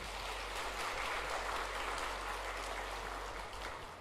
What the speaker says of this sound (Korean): 우리 감사하는 박수 한번 하도록 하겠습니다